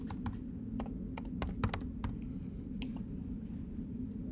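Clicky keystrokes on a computer keyboard, irregular bursts of taps with short pauses, close and fairly quiet over a steady low hum, no voices.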